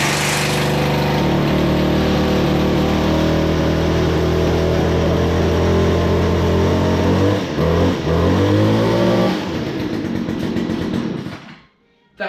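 A Stihl FS 70 bike handle strimmer engine runs steadily and loud nearby, its buzzing two-stroke drone dipping and recovering briefly before cutting out near the end.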